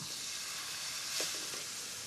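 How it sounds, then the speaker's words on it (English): Food gently softening in a little butter in a pan, a faint, steady low sizzle with a slight stir-like rustle midway, quiet and without talk. "So you're not frying it, you're just softening it up in a little bit of butter."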